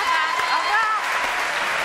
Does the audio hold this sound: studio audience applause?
yes